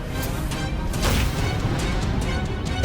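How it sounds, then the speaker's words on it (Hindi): A locked door is forced and smashed open in a TV crime drama raid, with several hard, loud crashing blows close by, one after another. "तोड़ दो दरवाजा।"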